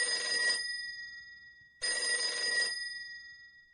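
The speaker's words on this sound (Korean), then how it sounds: "이승만의 병문안을 마친 김종필에게 서울로부터 전화가 걸려왔다." An old-style telephone bell rings in two bursts with a pause between them, clear and fairly close, with no one talking.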